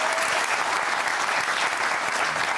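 Studio audience applause on a French TV talk show, dense and steady throughout, loud and close with no talk over it.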